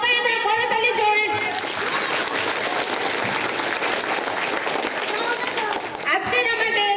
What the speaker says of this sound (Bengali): সবাই আমরা করতালি জোরে।